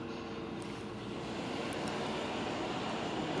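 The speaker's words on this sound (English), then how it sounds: "And that's how you get the engine started." A beam pumping engine running after being started, a steady, dense mechanical roar with a continuous broad rumble and no clear individual strokes, no voices over it.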